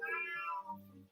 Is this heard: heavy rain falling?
no